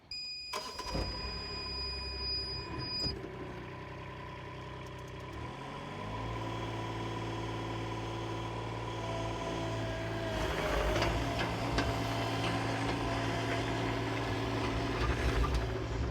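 A CAT 302.7 mini excavator gives a few electronic warning beeps, then its engine cranks, catches and settles into a steady low idle that swells slightly louder toward the end.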